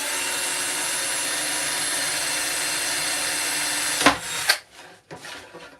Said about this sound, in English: Just drill hole straight through there.